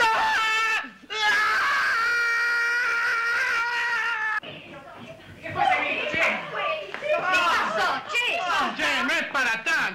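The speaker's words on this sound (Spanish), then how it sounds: "por una inyección gritás como un loco" An adult man screams loudly and at length as he receives an injection, the yell breaking into wailing, agitated cries; another voice cuts in briefly in the second half.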